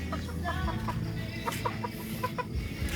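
Farmyard chickens cluck in short, repeated bursts from a rooster kept in a poultry block, with a low steady hum running underneath; no clear crow stands out.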